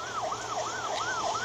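An ambulance siren in El Progreso, Guatemala, wails in a steady rising-and-falling cycle, about four sweeps in a second and a half, loud and close over a low road rumble.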